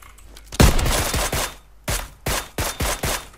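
Gunfire in the game PUBG Lite comes in sharp, close bursts: a long rattling volley followed by several short rapid bursts with small gaps between them, with no voices.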